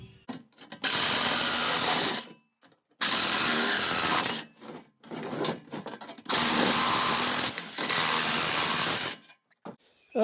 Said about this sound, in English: I guess I can just take my saw and try to cut it